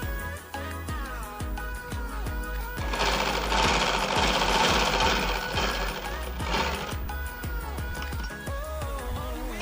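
Sewing machine stitching panels of a four-panel petticoat, a loud steady mechanical whir with rapid needle strokes running through nearly the whole stretch, swelling in the middle and carrying on without speech.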